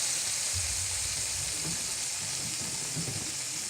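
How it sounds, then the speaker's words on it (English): Chicken searing in a hot pan for lemon thyme chicken, a steady close sizzle and crackle of frying with faint stirring sounds throughout. "get a nice little sear going on that"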